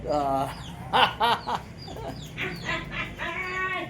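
Pet chickens cluck and call close by in a short burst of several rising, throaty notes, with one bird's call slightly drawn out near the end, over a quiet outdoor background.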